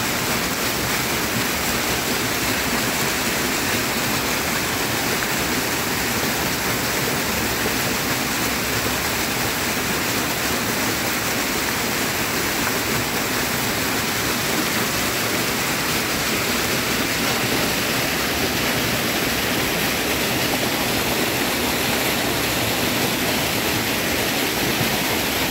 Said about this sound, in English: so pretty, it's waterfalls